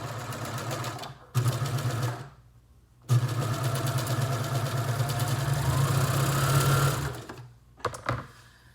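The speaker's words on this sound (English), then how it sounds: "So now let me sew it" Sewing machine stitching a crotch seam on a garment, running in steady mechanical bursts of a second or several seconds, separated by short quiet pauses, close and clear.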